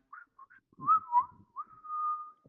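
A short, wavering whistle with a few breathy chirps, then a sustained steady whistled note, close and quiet.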